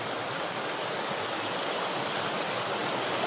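The Guadalquivir river in Andalusia, near its source, runs as a small stream with a steady, even rush of flowing water. It stays constant and close, with no voices.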